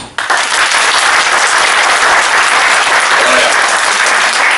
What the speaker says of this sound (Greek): θέλω ένα ζεστό χειροκρότημα